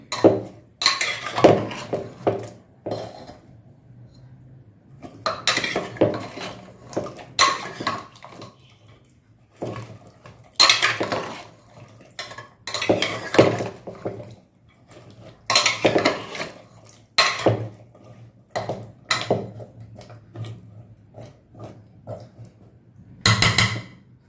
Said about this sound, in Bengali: এবার এটা একটু নাড়িয়ে ভালো করে সব মিশিয়ে নিই